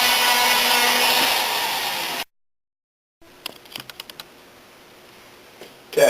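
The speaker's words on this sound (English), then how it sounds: "Okay, I finished chasing this port around with the spiral sandpaper." A spiral sandpaper mandrel smooths the port of a hobby motor, giving a loud, steady rasping grind for about two seconds. It cuts to silence, then a few light clicks and taps follow.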